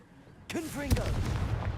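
A Confringo fire spell blast in Hogwarts Legacy erupts suddenly after a quiet lead-in, with a loud low thump and a swirling magical whoosh trailing off into a rumbling tail.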